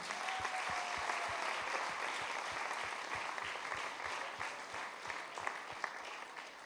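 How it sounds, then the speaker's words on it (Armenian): Audience applause at a music school students' concert in Yerevan, sustained, even clapping from a seated crowd, heard at moderate distance and fairly quiet. "եկեք ծափահարենք։"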